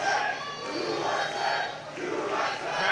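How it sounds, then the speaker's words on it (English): A wrestling crowd at the Tank Brewery chants USA in a loud, rhythmic, sustained roar of massed voices that swells and dips across the whole stretch, with no other sounds standing out. "Crowd here at the Tank Brewery getting a USA chant going."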